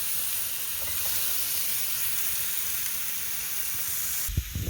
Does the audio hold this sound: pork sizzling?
yes